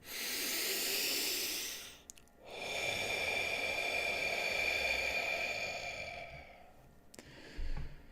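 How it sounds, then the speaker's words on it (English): A slow, deep breath drawn in through the nose, a long airy hissing inhale that pauses briefly and then continues for several seconds, close and clear with no talking. "Deep breath in."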